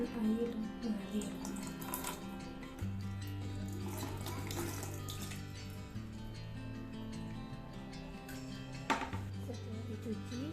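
Water runs steadily from a tap for washing a wound, a continuous gentle splash heard quietly with a few brief clinks and some low background hum.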